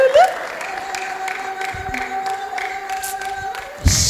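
A church congregation at a prophet's gathering breaks into loud ululation and clapping for God, the high trilling cries riding over bursts of applause, with a sharp louder swell near the end.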